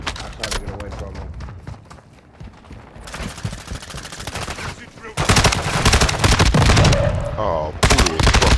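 Video-game AK rifle fire crackles in rapid automatic bursts, close and loud, with the firing growing denser and more continuous in the second half and brief gaps between the volleys.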